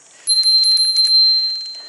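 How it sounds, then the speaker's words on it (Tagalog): Bright metallic trill of a Cat Eye bicycle bell mounted on a bike's handlebar, a rapid burst of repeated dings with a sustained high ringing tone that fades out, close and loud with no talk. "magandang investment ko, yung cat eye na bell"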